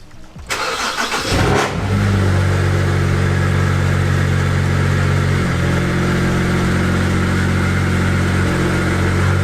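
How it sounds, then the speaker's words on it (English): A BMW 335i fitted with a JB4 tune cranks briefly and fires up, then settles into a loud, steady, close idle with a slight dip midway. "Car started up."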